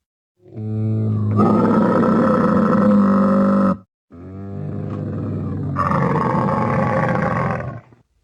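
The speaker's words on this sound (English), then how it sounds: "No, it's a camel." A camel vocalizes in two long, loud, throaty bursts of groaning roar separated by a brief pause, close and alone with no talk.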